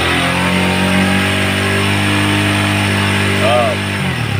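A Honda CB150R motorcycle engine revs up close, a loud steady drone that drops away near the end, with someone speaking over it.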